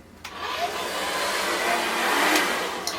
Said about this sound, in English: you're going to want to take a hairdryer and use heat to set that hairspray in place